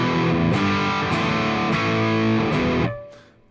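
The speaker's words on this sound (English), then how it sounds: "if I want to have more distortion, I put the volume knob up" Rhythm on an electric guitar with the volume knob turned up for more distortion: loud, crunchy chords ring out with a few sharp strums, then cut off and fade.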